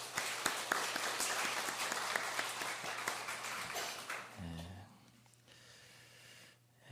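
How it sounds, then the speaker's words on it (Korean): A church congregation gives welcoming applause during a Sunday service with sharp, scattered claps in a room. The clapping dies away after about four seconds, leaving a quiet hum with faint breathing sounds. "우리 환영의 박수 한번 치고 말씀해 주세요."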